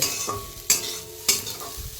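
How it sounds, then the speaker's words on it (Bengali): Radish pieces sizzle in a hot frying pan as a spatula stirs them. Two sharp scraping strokes punctuate a steady, close hiss with no talking. "আর এখানে মূলো ভাজা চলছে"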